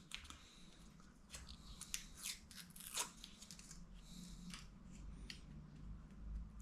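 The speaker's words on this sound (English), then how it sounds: "I'll get all the paper off" Paper backing is peeled off a toilet seal during a DIY toilet replacement in Thailand, giving quiet, close crinkling and tearing rustles with a few sharper crackles, continuous across the stretch.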